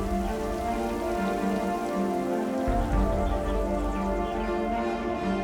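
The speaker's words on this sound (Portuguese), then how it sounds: "A chuva despenca com força, quebrando o silêncio árido do lago." Heavy rain pours steadily onto a lake, a dense, constant hiss of drops striking the water surface that carries on without break for the whole stretch, with a low rumble beneath.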